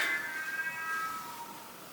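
A house cat lets out a single clear, drawn-out meow that fades over about a second, with quiet room hiss behind it.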